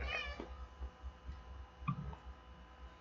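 A cat meows once at the start in the game Hiveswap Friendsim, a short faint mew over quiet low background clicks and ticking.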